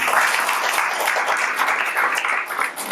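At a French business conference, the audience applauds a speaker from the company APMI with a brief, continuous burst of many hands clapping at a fairly loud, even level.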